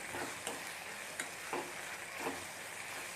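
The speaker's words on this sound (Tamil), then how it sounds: "முட்டையை அடித்து ஊற்றிட்டேன் பாத்திரத்தில்" Beaten egg frying in a pan with tomato and salt for an egg pepper fry gives a steady close sizzle, broken every second or so by a brief scrape of stirring.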